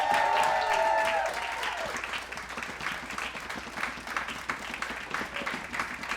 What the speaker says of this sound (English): And let's add Bernard Carter into that applause.